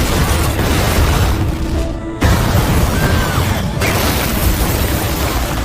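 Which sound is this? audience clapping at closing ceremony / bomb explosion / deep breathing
bomb explosion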